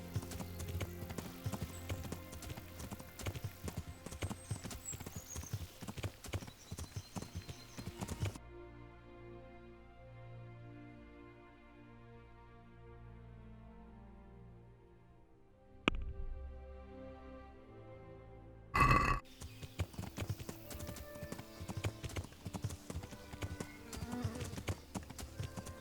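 Horse hooves clip-clop in the medieval game Kingdom Come: Deliverance, a steady rhythmic trot that stops midway through a quieter stretch before resuming, mixed with game ambience and music.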